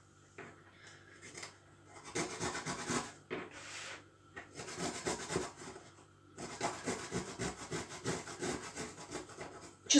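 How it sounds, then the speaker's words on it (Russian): Garlic is grated on a fine grater over a board, making close, soft rasping strokes that come in rhythmic bursts separated by short pauses, with no speech. "Будем натирать чесночок. Также на мелкую терку. Буду делать это я на досточке."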